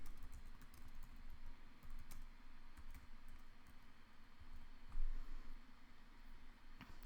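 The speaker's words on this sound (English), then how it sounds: "And now I'm going to type it here." Typing on a computer keyboard: faint, scattered keystroke clicks over a steady background hiss, with no voice.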